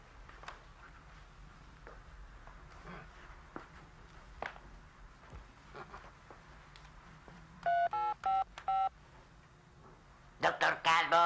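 Telephone keypad tones sound in two bursts of rapid dialing beeps, faint room noise and scattered footsteps between them, in a comedic detective scene set in a television studio.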